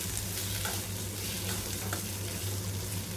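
Onions and garlic frying in a pan while being stirred, giving a steady close sizzle with soft scraping stir strokes throughout and no voices.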